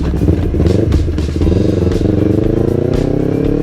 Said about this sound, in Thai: โอ้โหเสียงท่อได้ที่ผายเลย เสียงท่อโคตรได้อ่ะ